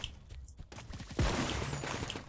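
A burst of rapid paintball gunfire in Roblox BIG Paintball 2 crackles through, sharp repeated shots followed by a falling whoosh and echoing reports, loud and close.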